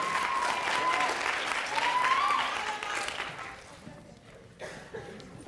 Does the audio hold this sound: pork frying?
no